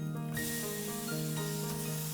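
Garlic and ginger sizzle as they are sautéed in hot oil, a loud, steady frying hiss close by with a faint tonal hum underneath and no talk.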